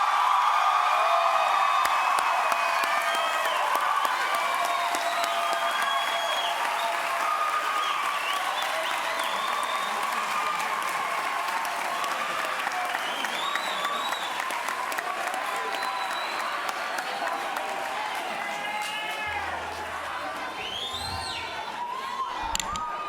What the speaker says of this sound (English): Yeah, you can keep clapping.